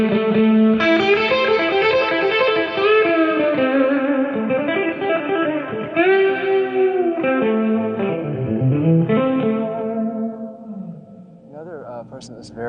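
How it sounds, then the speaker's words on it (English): An electric guitar played with two strings bent together, sustained distorted notes sliding and wavering in pitch through a connected lead phrase, loud and up close, with no talking over it. "he would bend two strings like"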